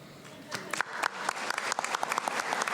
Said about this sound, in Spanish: Un fuerte y merecido aplauso